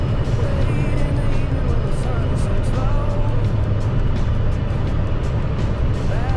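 A fully loaded semi truck, about 80,000 lbs, crawls up a steep Texas Hill Country incline, its engine a loud, steady low drone with road and cab rumble that holds throughout.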